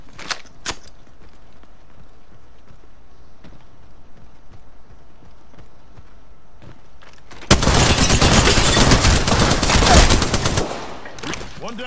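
Gunfire in Apex Legends: a quiet stretch, then a loud, dense, sustained burst of rapid shots lasting several seconds before it tapers off.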